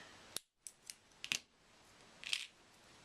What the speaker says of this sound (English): And then trim your excess wire.